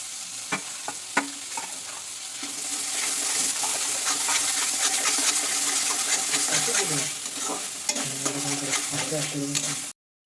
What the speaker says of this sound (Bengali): এবার পেঁয়াজ ও টক দইয়ের পেস্টটা দিয়ে কষিয়ে নেব।